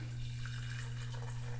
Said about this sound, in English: I'm going to pour both of these into a mason jar now.